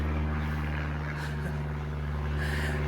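An airplane passes overhead a garden, a steady, loud engine drone with a low rumbling hum that fills the whole moment without fading.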